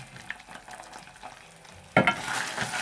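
Tomato paste is stirred in a pan with soft scraping, then a sudden louder sizzling burst partway through that holds steady and close to the end.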